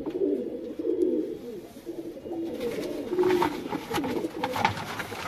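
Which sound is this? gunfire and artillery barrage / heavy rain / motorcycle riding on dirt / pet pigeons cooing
pet pigeons cooing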